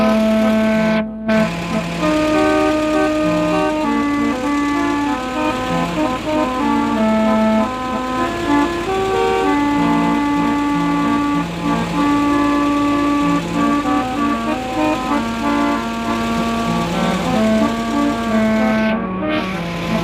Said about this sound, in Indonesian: untuk truk tol diesel yang mempunyai klakson ini.